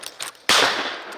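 A single loud, close shotgun blast fired at a duck during a late-season mallard hunt on a small Kansas creek, sharp and booming with a decaying tail after quiet rustling.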